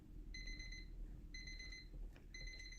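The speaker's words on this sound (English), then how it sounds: "Actually, that's the timer." A timer alarm sounds in three evenly spaced bursts of shrill repeated beeping, faint and somewhat distant over a low background hum.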